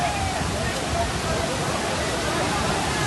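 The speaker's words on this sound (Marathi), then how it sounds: "जो आवाज येतोय धबधब्याचा, हाच तो धबधबा जो फेमस झाला आहे इंस्टाग्रामवर" The Bhandardara waterfall roars as a dense, continuous wash of noise, steady and even for the whole stretch with no gaps.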